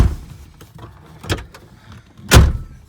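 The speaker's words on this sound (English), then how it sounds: "I'm going to close my door as well." A Ford Sport Trac door swings shut with a sharp, loud thud near the end, preceded by softer handling knocks and a smaller clunk, all close by inside the truck.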